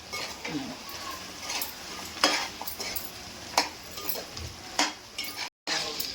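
Chicken curry cooked without water being stirred in a pan, with bright spoon scrapes and clinks over a low frying sizzle, in uneven strokes with one brief drop to silence.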